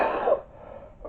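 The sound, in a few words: cough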